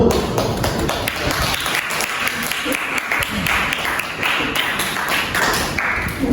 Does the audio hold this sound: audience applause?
yes